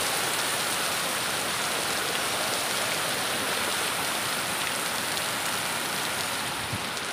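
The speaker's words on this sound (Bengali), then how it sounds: "আর এদিকে দেখো প্রচুর পরিমাণে বৃষ্টি শুরু হলো তার মধ্যে।" Heavy rain falls in a steady, dense hiss that stays loud and even throughout, with no voices.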